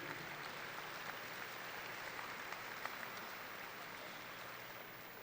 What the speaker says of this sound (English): I would like to share a round of applause